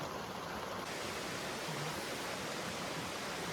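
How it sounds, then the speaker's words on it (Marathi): Heavy rain falls steadily at a campsite during the night, a dense, even hiss of downpour with no speech. "पाऊस चालू आहे मस्त पाऊस आहे"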